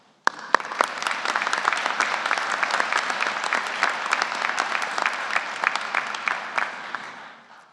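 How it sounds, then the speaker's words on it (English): After a sharp onset, a commencement audience at a university winter graduate ceremony breaks into applause, with many individual claps standing out sharply in a steady burst that fades at the end. "Please give all of those who have supported you during these important years a round of applause."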